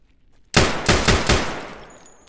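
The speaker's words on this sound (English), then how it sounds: "That was a guy shooting" A short burst of video game gunfire erupts after a quiet moment, several loud, closely spaced shots cracking one after another before fading into a lingering echo.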